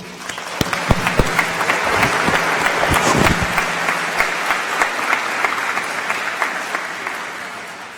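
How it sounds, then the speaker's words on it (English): An audience at a 2024 afternoon commencement ceremony breaks into broad, sustained applause, a thick, even roar of clapping with a few sharp nearby claps standing out. "please join me in giving her a round of applause"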